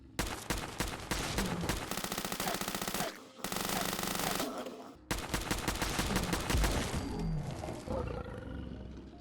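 A Frommer Stop pistol fires in Fallout 4 in rapid, dense bursts of shots, with a brief pause between strings. The gunfire is loud and continuous.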